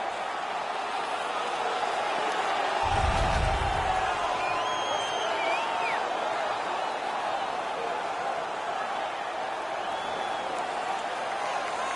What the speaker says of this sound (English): The home crowd is ecstatic. They're making all kinds of noise.